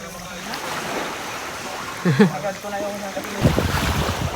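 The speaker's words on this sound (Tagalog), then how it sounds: "So napatakbo na natin yung bangka mga be." A small boat's motor drones steadily over wind and water, with a few brief louder bumps and a surge of noise toward the end.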